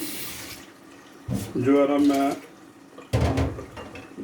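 Water is poured into a pot for cooking rice in a home kitchen, in two short bursts of splashing, trickling flow separated by a pause. A voice speaks briefly nearby.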